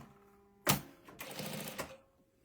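A sewing machine stitches a quilt block at high speed, giving two short bursts of fast mechanical whirring, the second longer than the first, fairly faint in a quiet room.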